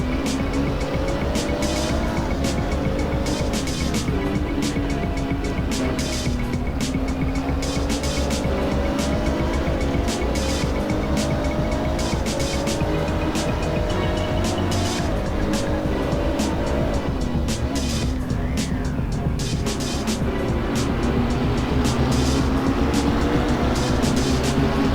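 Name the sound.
GT3 race cars braking, from video game Assetto Corsa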